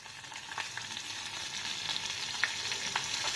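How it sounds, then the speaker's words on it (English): Mustard seeds, cumin, curry leaves, dal and green chillies sizzle in hot oil in a pan, giving a soft, steady frying hiss with small pops and crackles scattered throughout, with no talk over it. "Heat it, and I'm adding 1 spoon of mustard and 1 spoon of zeera."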